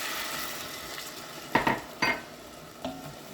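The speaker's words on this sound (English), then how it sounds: "And just stir it. You want to pick up all these little flavors are at the bottom of your pot." Wine stirred into a pot to lift the browned bits from the bottom, heard as three or four short scraping strokes of a utensil against the pot over a faint background hiss, with no talking.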